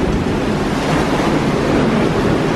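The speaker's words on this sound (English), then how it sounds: "It sounds so windy out here." Strong wind roars steadily over the open deck of a cruise ship bound for Bermuda at night, blending with the broad wash of ocean waves below as the ship moves fast; loud, continuous and close, with no talking.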